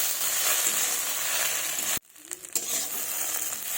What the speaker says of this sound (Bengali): যাতে মশলার কাঁচা গন্ধটা না থাকে, এভাবে নাড়াচাড়া করে নেব।